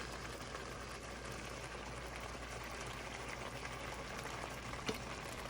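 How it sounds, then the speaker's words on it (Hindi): Half a cup of oil goes into a pan of cooking tomato masala whose water has almost fully cooked off, giving a steady, even sizzle that fills the clip with no talking. "तो अभी ऑयल डाल देंगे।"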